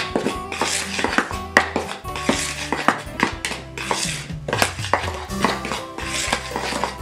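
Dry flour ingredients for beignets get mixed in a metal bowl, with repeated clanking and scraping of utensil against dish in an irregular, close, fairly loud rhythm, no talking.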